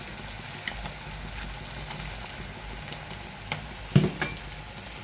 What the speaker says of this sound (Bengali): তো কড়াইয়ের মধ্যে পিঠাটা দিয়ে দিয়েছি, আর এই যে ভাজা হচ্ছে